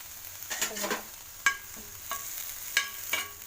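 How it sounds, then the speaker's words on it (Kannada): Coriander and curry leaves frying in a pan for a poha samosa filling, with a soft steady sizzle broken by a few sharp stirring clicks and scrapes, close and alone. "ಇದು ಸ್ವಲ್ಪ ಹುರ್ಕೋಬೇಕು ಹುರ್ಕೊಂಡ್ರೆ ಚೆನ್ನಾಗಿರುತ್ತೆ"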